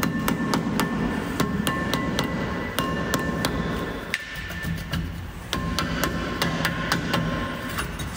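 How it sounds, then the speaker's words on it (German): Repeated sharp knocks of a rubber mallet working a brake disc loose on a squealing Mercedes G63, steady blows in an irregular rhythm over a constant workshop hum, fairly close and loud, with a brief pause midway. "Da müssen wir wahrscheinlich auch wieder mit dem Gummihammer ein bisschen nacharbeiten."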